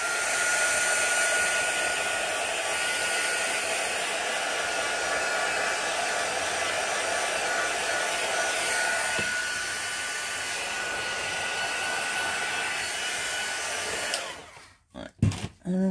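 A hair dryer drying metallic ink on card blows in a steady, loud, close whir for about fourteen seconds, then cuts off with a few brief rustles and knocks.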